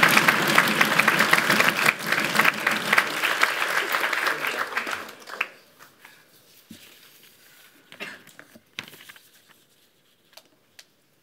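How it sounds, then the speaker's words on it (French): Applause at the French national parliamentary debate championship final, loud and dense for about five seconds before thinning out, followed by near-silence broken by a few scattered, isolated claps. "Applaudissements maintenant"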